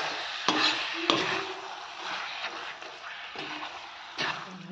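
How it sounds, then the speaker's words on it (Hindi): Food is mixed by hand in a pot at home: soft, continuous rustling and scraping with a few sharper knocks near the start and end, fairly close, with no talking. "और अब यहाँ मिक्स करेंगे अच्छे से"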